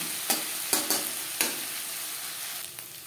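Onions sizzling in hot oil in a pan, frying until reddish-brown, with a steady hiss broken by several sharp scrapes of stirring close up and no voices.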